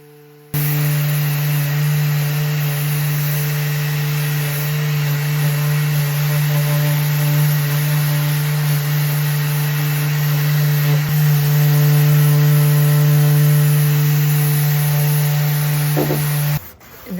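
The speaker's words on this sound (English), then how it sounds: "I'll use my Surf Prep sander, and then I'll use my Surf Prep sander as well to get into any corners that I can't with my orbital." A Surf Prep sander works over a vintage Art Deco English bar cabinet of tiger oak, giving a steady, loud motor drone with a strong low hum that runs unbroken for about sixteen seconds before cutting off.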